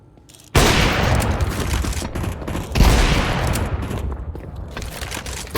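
Shotgun fire in a tactical shooter video game: two loud, close blasts a couple of seconds apart, each with a long rumbling decay.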